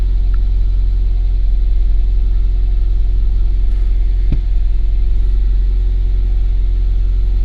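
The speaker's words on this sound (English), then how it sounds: "So the engine is turned on." A car engine idles during an alternator charging test, a steady loud low rumble that holds evenly throughout, with one brief faint click partway and no talk.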